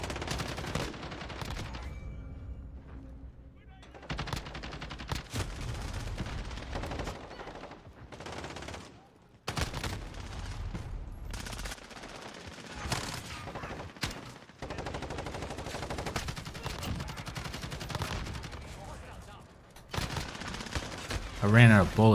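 Rapid, dense bursts of automatic gunfire from Modern Warfare on the Shipment map, loud and nearly continuous with brief lulls between volleys.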